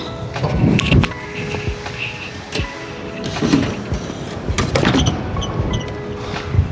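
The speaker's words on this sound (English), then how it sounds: "lube up this track a little bit, then it won't be so squealy." A power window on a Lexus GX470 runs up and down with whirring motor tones, punctuated by several sharp squeaks and clunks along its dry track.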